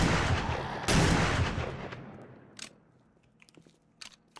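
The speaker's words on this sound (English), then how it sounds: "I swear my bullets are not hitting the military" Gunfire in the video game 7 Days to Die during an ambush at a military base, a loud burst of rapid shots that fades into a long echoing tail, then a few isolated sharper cracks.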